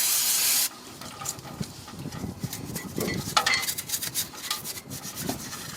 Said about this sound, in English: Now let's clean the caliper.